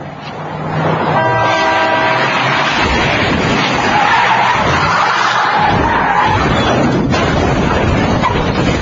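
A car skids on a road in bad weather, giving a long, loud tire screech that holds for several seconds amid engine noise and a horn-like tone.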